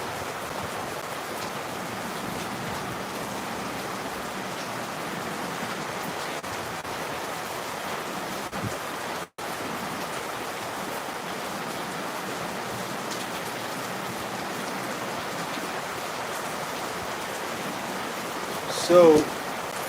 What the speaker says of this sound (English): It's raining here heavily.